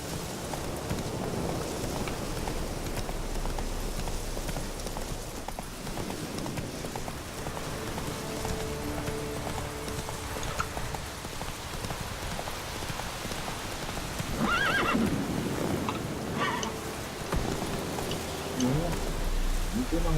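Roach, the horse in The Witcher 3, gallops with a rapid, steady rumble of hooves mixed with rain-like noise and voices talking, and louder bursts later on.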